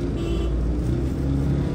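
A government bus passes close by in a bus stand on the route toward Chandigarh, a loud steady engine roar with broadband road noise throughout, no speech.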